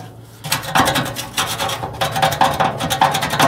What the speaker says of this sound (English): Little spatula action going on here, digging up all the gunk.